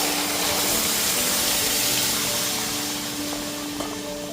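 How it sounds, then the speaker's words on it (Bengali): A generous amount of water pours onto biuli dal lentils in a loud, continuous, close gush that fades slightly toward the end. "এবার ডালের মধ্যে বেশ অনেকটা পরিমাণ জল দিয়ে দিচ্ছি।"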